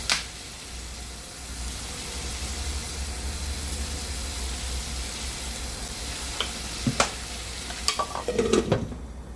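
Squid adobo frying in a pan gives a steady sizzle after vinegar is poured in, with a few sharp clinks and scraping near the end.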